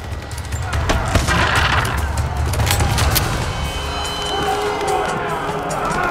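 Rapid gunshots from Rise of the Tomb Raider ring out in a dense, loud stretch under a player's excited voice, with steady broadband crackle and rumble throughout.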